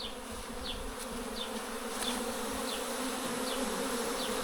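A bee swarm pouring out of a hive in a village yard, a dense continuous buzz with individual bees zipping past now and then, steady and fairly close, no voices.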